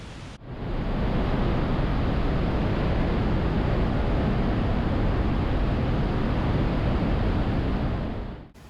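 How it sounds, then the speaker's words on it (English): Lauterbrunnen waterfalls cascading through rock inside a mountain in Switzerland, a loud, steady, broadband roar of falling water that fills the whole stretch without a break and with no voices. "This is where the actual waterfalls become visible."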